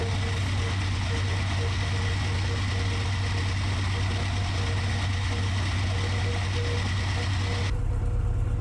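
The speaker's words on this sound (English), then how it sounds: "Listen to this engine at notch 8." A GE AC4400 diesel locomotive engine in a train simulator game runs at notch 8, a loud steady roar with deep throbbing rumble that cuts off abruptly near the end.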